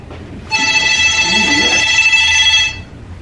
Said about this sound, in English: I ain't answering that phone.